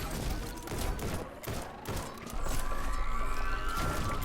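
Video game gunfire crackles in rapid volleys, loud and close, with a rising electronic tone sweeping up under the later shots and a dense burst near the end.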